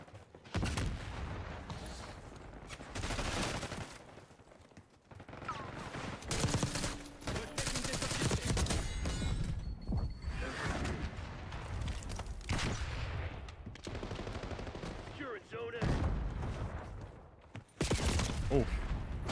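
Bursts of SMG fire from the video game Black Ops 6 rattle in rapid repeated volleys with short gaps between them, loud and close, with a voice talking now and then.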